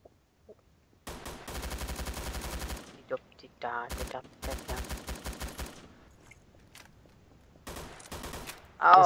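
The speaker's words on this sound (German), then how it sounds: "Aus Versehen einen Schuss geschossen." Garry's Mod video game gunfire: bursts of rapid automatic shots split by short pauses, with single shots scattered between them and a loud blast at the end, fairly quiet overall.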